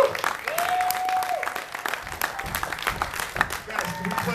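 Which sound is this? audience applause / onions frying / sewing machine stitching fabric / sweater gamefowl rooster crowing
audience applause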